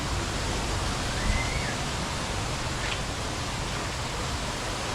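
Steady broadband roar of a waterfall at the sticky waterfalls near Chiang Mai, a constant rushing wash of falling water that fills the whole clip, loud and close.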